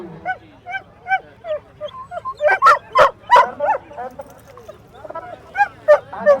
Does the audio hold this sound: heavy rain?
no